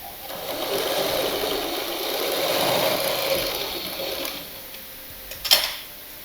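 A sewing machine runs steadily stitching a blouse, a continuous whirring drone that swells slightly and then eases off, ending with a brief metallic clack.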